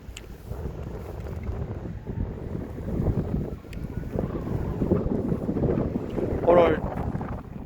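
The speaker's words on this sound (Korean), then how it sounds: "바람이 무척 많이 붑니다" Strong wind in Dong-gu, Ulsan, South Korea buffets the microphone in a steady, rumbling roar, gusting louder toward the end, with faint voices underneath.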